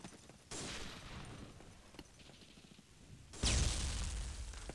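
Grenade explosions in the World War II shooter Day of Defeat: two sudden loud broadband blasts, one early and a stronger one later, each followed by a sustained rumbling roar, with no talking.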